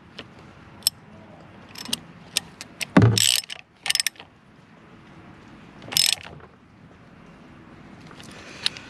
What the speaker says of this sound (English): And you torque them down to 27 foot-pounds.